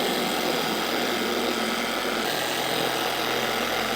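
An SPTA dual action polisher spins steadily at close range, throwing polishing compound off its pad, with a continuous whirring, rubbing hiss that barely changes over four seconds.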